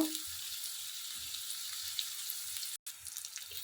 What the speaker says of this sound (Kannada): ಚೆನ್ನಾಗಿ ಫ್ರೈ ಮಾಡೋಣ ಈಗ ಈರುಳ್ಳಿ ಬೇಗ ಫ್ರೈ ಆಗಲಿಕ್ಕೆ ಸ್ವಲ್ಪ ಉಪ್ಪು ಹಾಕ್ಕೊಳ್ಳೋಣ